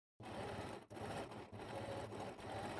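A sewing machine stitches around the fabric of a scrunchie in a steady whirring run, with brief pauses breaking the hum, close and fairly quiet.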